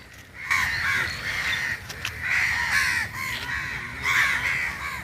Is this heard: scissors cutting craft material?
no